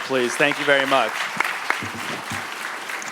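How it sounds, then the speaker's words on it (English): Applause for a panel at a local news conference, a moderate wash of clapping that continues under someone speaking briefly at the start and then carries on alone. "a round of applause for our panel,"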